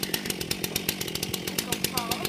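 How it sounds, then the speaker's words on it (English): A chainsaw running for cutting down a tree outdoors, with a rapid pulsing engine rattle that stays steady and loud throughout, and a voice talking over it. "And he's starting the chainsaw."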